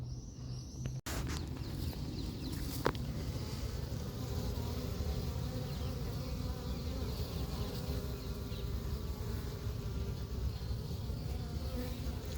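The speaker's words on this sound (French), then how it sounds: "j'ai pas mal d'abeilles, elles sont pas remontées en haut" A swarm of honeybees being collected at Yerres hums in a dense, steady buzz from close by that fills the whole stretch without letup, with no voices.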